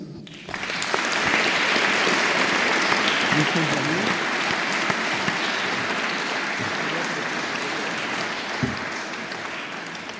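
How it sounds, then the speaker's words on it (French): Audience applauding award winners at an Academy of Sciences prize ceremony, dense sustained clapping from a large room that holds steady for the full stretch, with a few voices and brief thumps mixed in. "On applaudit les lauréats."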